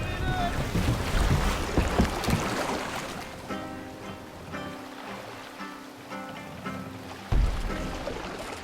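A Viking longship in Assassin's Creed Valhalla cuts through the water under sail, with rushing water and gusting wind that start strong and ease off, and voices surface now and then.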